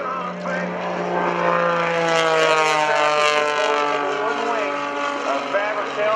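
A Panzl composite aerobatic propeller plane flies at an Air National Guard open house airshow in Rhode Island, its engine droning steadily with a shifting pitch as it passes, while an announcer talks over it.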